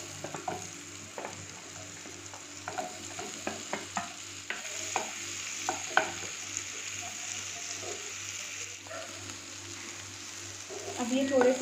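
Chopped onions and ginger fry in a pan with a soft, steady sizzle under frequent light clicks and scrapes of a spatula, close-up and fairly quiet.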